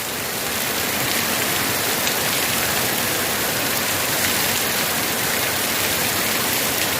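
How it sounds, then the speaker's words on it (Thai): Heavy rain driven by wind falls in an unbroken, even roar, close and loud, with no one talking. "ทั้งลมทั้งฝน"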